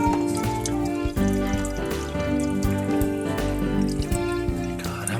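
Water drains from a Crown MS40 water heater during a flush, a continuous rushing, dripping and splashing flow that stays steady and fairly close throughout.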